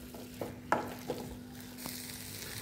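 A few scraping strokes from stirring veg burger stuffing with tomato sauce in a pan, soft, close and spaced out over a steady low hum, with no talk.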